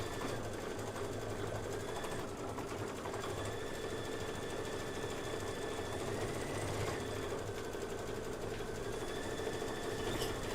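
A home embroidery machine stitches a Kimberbell design with a steady, fast mechanical whir and rattle, continuous and fairly close, at low volume with no talk.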